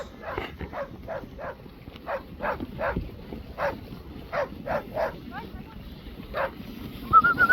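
A dog barks repeatedly in the distance, short sharp yaps at an irregular pace over faint outdoor background noise.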